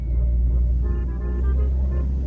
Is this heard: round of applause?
no